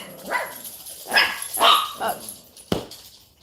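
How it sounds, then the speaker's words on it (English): Several dogs bark in a burst of loud, close barks and yips at home, about four or five sharp calls over a few seconds, with a brief spoken exclamation among them. "My dogs had a moment. They just wanted to bark for no reason."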